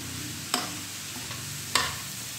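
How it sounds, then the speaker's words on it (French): Vegetables cook over high heat in a hot pan, giving a steady soft sizzle broken by two sharp scrapes of the stirring utensil against the pan. "on va laisser cuire en remuant de temps en temps"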